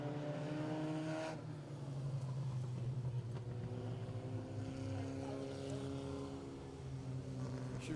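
A mini stock race car's engine drones steadily around the oval track, a continuous loud tonal roar with shifting pitch held for the whole stretch, other cars blending in.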